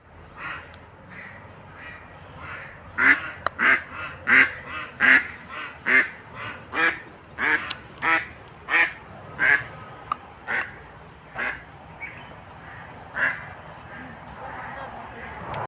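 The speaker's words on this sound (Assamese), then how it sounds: "হাঁহৰ ফাৰ্ম হয় এইটো।" Ducks on a duck farm quack in a long rhythmic run of loud, close calls, one after another, then trailing off more sparsely.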